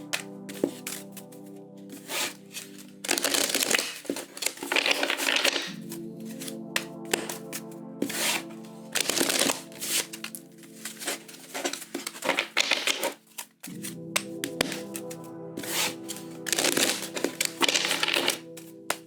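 Tarot cards being shuffled close up, a rapid papery riffling and tapping that repeats in several bursts with brief pauses between.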